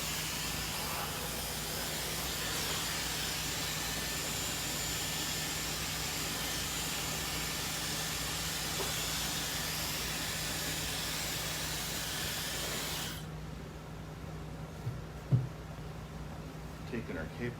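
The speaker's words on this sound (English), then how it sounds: "So I'm just running the blow dryer through it" A blow dryer runs through hair in a salon with a steady, loud whoosh, then cuts off near the end, leaving quiet room sounds and a soft bump.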